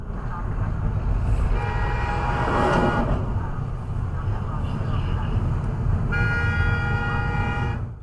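A car horn sounds in a long line of traffic, a loud sustained honk over road and engine noise, with tonal blasts returning near the end.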